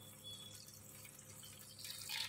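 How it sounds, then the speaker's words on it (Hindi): Bitter gourds being washed by hand in clean water in a kitchen, with soft continuous splashing and dripping water that grows a little louder near the end, heard alone without talk. "सबसे पहले हम करेलों को धोएंगे, 4-5 बारी साफ पानी से धोएंगे करेलों को"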